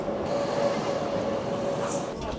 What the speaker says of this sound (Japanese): お、列車がやってきましたよ。